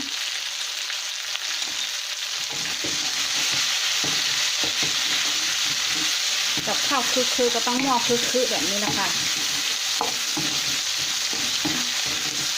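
Steady sizzling and frying from a pan with stirring scrapes as vegetables and pork are stir-fried with turmeric and shallots, while someone talks over the cooking noise.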